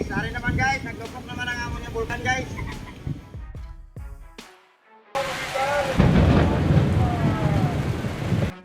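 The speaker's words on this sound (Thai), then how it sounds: "ฟ้าผ่าขนาดมหอมาตกลงตรงยอดหอคอยนาฬิกาอับบราสอัลเบ กลางนครเมกกะ" Thunder from lightning striking the Mecca clock tower at night, a loud broad rumbling crack bursting in partway through and rolling on, with a voice narrating over it.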